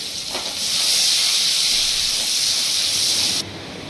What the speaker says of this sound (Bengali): এবার ওই মাছ ভাজা তেলের মধ্যে দিয়ে দেব পেঁয়াজ